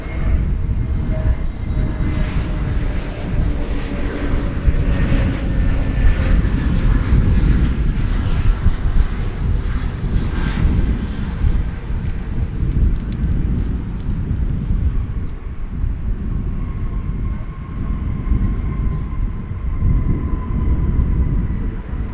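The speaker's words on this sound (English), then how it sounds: "we watch this flight coming in from the City of Angels" An airliner arriving at DFW Airport from Los Angeles gives a loud, sustained jet-engine roar. A whining tone shifts in pitch as it passes nearby, and the roar holds steady for the full stretch without speech.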